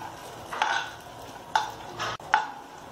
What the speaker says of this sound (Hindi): गोल्डन कलर होने तक यहाँ पे हमें सभी ड्राई फ्रूट्स को फ्राई करना है।